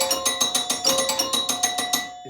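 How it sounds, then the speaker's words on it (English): A bell on a Stars 2020 pinball machine rings for a skill shot, a rapid run of about a dozen bright metallic strikes, loud and close, ending abruptly. "you hear that bell go off really quick to let you know that you got the skill shot"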